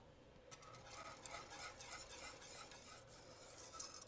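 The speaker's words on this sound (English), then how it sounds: "Okay, I'm just going to stir this" A spoon stirs macaroni and cheese sauce in a pot, with soft scraping swishes and light metallic clinks repeating unevenly over a faint sizzle, quiet and close.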